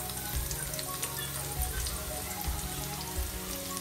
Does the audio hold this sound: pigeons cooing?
no